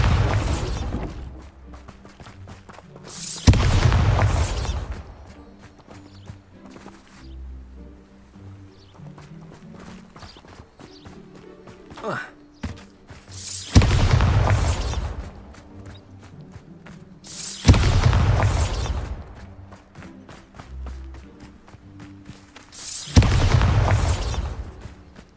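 Bombarda spell blasts in Hogwarts Legacy, five booming bursts a few seconds apart, each loud and crackling, with quieter ambient game sound in between.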